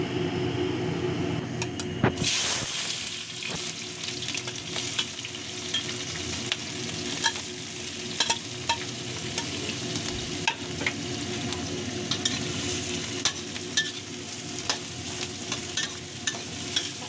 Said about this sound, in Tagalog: mag-init lang tayo ng cooking oil